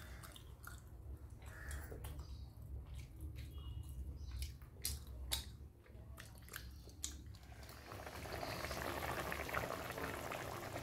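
Egg curry simmers and bubbles in a pan, a steady close wet bubbling with scattered pops and crackles, then a louder, denser sizzle near the end.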